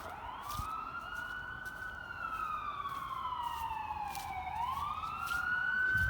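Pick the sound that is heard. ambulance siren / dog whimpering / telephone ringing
ambulance siren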